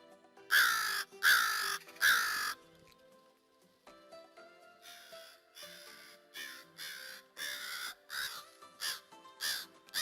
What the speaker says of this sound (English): the first group we have come in here are these crows